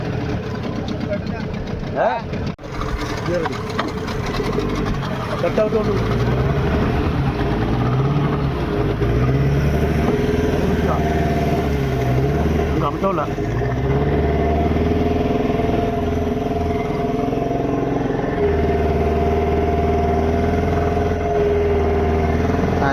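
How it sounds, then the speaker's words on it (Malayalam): A traditional Kerala sea fishing boat's engine running steadily, a loud continuous low drone with rhythmic chugging throughout, with people talking over it. "നമ്മൾ വള്ളം സ്റ്റാർട്ട് ചെയ്ത് ഓടും"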